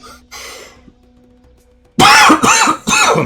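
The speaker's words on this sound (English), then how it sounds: "Trying not to cough" A gamer on a livestream coughs several times close to the microphone: two faint, muffled coughs at first, then after a pause three loud, harsh coughs in quick succession.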